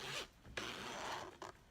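Several short zipping strokes of a regular zipper being sewn into a cushion back, brisk and close, with brief pauses between pulls and no talking.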